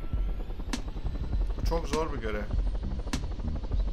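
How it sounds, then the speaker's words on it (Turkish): A helicopter flies in the video game Totally Reliable Delivery Service, its steady rotor drone running loud and continuous throughout while someone talks over it. "ben helikopter kullanmayı bilmiyorum ki"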